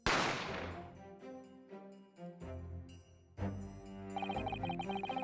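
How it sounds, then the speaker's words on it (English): Gunshot sound effect in the video game The Great Ace Attorney Chronicles: a sharp burst at the start, followed by quieter musical game tones and further hits, all fairly faint. "I didn't have time to think about where the sound of the gunshot had come from."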